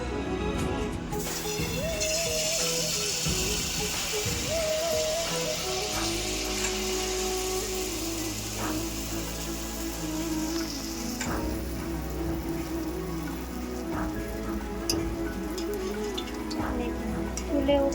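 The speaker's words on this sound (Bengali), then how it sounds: "কড়াতে তেল বসিয়ে রেখেছি তেল গরম হয়ে গেছে এবার একটা একটা করে ছেড়ে দেবো" Palm malpua batter fries in hot oil in a kadai with a continuous bubbling sizzle throughout, joined by occasional clinks and scrapes of a utensil, with background sounds and voices faintly underneath.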